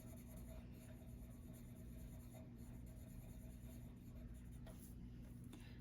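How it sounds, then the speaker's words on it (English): A brown Prismacolor colored pencil scratches softly and continuously across paper as light colour is added, a faint steady scribbling close by under a low background hum. "I'm going to add just a little bit of color, just a tiny bit, with a little bit of brown pencil."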